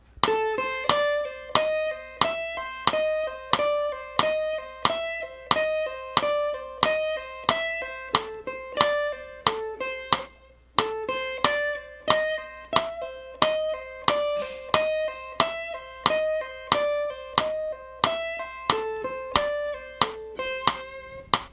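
Steady plucked guitar notes in a fast repeating pull-off finger exercise, each note sharply attacked then pulled off to a lower one, looping evenly with no voices.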